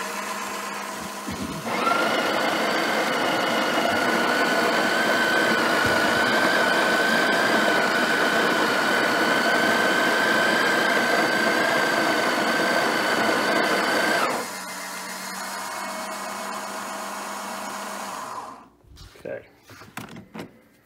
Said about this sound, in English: grind again, and see if the amount is in fact different